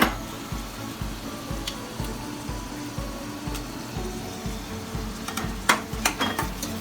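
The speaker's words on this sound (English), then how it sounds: "We will saute the shrimp." Shrimp and garlic sauté in a pan with a steady sizzle, broken by a regular series of soft thumps and scrapes from stirring, plus a few sharper clinks near the end, all close and without speech.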